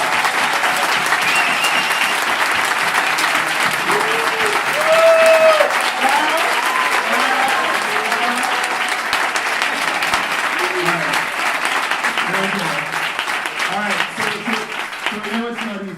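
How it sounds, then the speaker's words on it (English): Loud sustained audience applause at a DemoJam tech event, dense clapping from a large crowd with scattered voices and cheers mixed in, tapering slightly toward the end. "Everyone, round of applause for the team."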